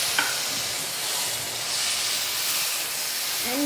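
Milk hits a hot pan of browned halwa with powdered sugar, producing a loud, even steamy sizzle and hiss that holds throughout, with a faint clink at the start and another near the end.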